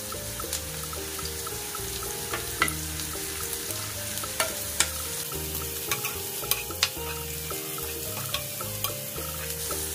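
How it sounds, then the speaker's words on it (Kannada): Salted onions fry in a pan with a steady, close sizzle while a spoon stirs and scrapes through them in repeated light clicks and taps. "ಇದು ಸ್ವಲ್ಪ ಗೋಲ್ಡನ್ ಬ್ರೌನ್ ಕಲರ್ ಬರಲಿ, ಅಲ್ಲಿವರೆಗೂ ಚೆನ್ನಾಗಿ ಫ್ರೈ ಮಾಡ್ಕೊಳ್ಳೋಣ"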